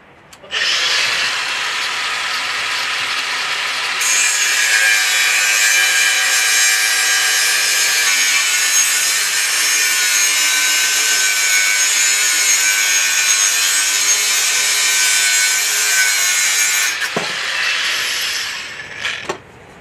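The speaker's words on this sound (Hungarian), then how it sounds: "Majd flexel elvágod." A loud, continuous high-pitched grinding as an angle grinder bites through metal pipe for heat pump fitting work, running steadily for many seconds before stopping.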